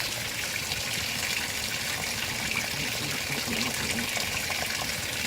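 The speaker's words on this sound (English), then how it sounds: "I forgot to show the softener disappearing and coming out of the agitator" Water gushing steadily inside a 2017 Speed Queen washer as the agitator dispenses softener, a continuous close hiss of pouring liquid with no talk.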